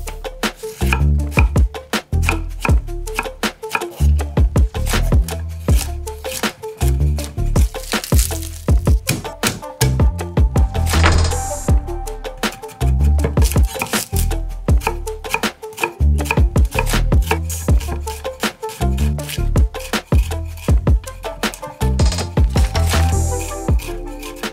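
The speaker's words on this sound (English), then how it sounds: "that was a lot of chopping" A knife chops vegetables rapidly and steadily on a cutting board, with dense, crisp repeated strikes and no talking.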